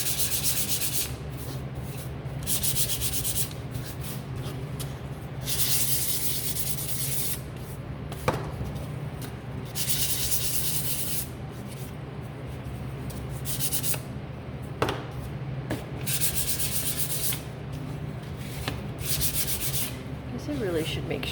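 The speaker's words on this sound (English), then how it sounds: "So grab your sandpaper." Sandpaper rubbing back and forth over a wooden wagon, close repeated rasping strokes in steady bursts with brief pauses and occasional light knocks.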